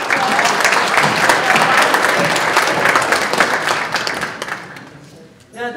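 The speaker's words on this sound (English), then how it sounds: "Guys, give me another round of applause." Gala audience bursts into a round of applause, a thick, close clatter of many hands that holds steady and then tapers away, followed by a voice speaking.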